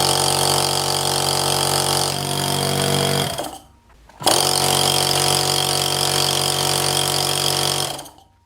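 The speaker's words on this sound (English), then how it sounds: "we can perform a first primitive test to see if the compressor works in principle" A repaired scrapyard air compressor runs loud and steady during its first test, with a continuous motor drone that briefly drops out and restarts before cutting off at the end.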